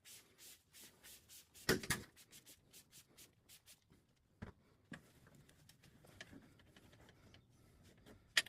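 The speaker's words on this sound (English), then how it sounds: "So I'm just gonna wipe this down." Cloth wiping down the speaker area inside a 5th-generation Toyota 4Runner with Windex-type cleaner, soft rhythmic rubbing strokes close by, faint, with a few sharper knocks and clicks.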